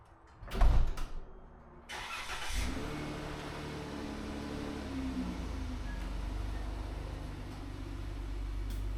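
Minivan engine running as the van is driven out into the sun, a brief loud start or thump near the beginning, then a steady low engine drone held to the end.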